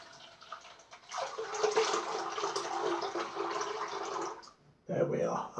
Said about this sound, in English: just give this one a quick rinse.